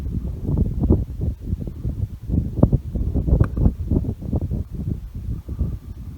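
Gusting wind buffeting the microphone outdoors during a Wyoming antelope hunt, a loud, continuous low rumble of rolling buffets without pause, no voices.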